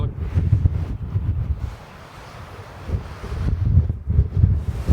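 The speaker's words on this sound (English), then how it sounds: "When I step out of my little tarp enclosure, the winds hit me pretty hard." Strong storm wind buffets a camper outdoors near a tent and tarp shelter. Loud gusts roar and rumble against the microphone, easing briefly midway and then building again, with no talk.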